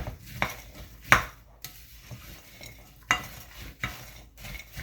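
Waldorf salad being stirred with yogurt in a single bowl: soft, intermittent scraping and clinking of a utensil against the bowl, with a few sharper knocks, close and fairly quiet, no voices.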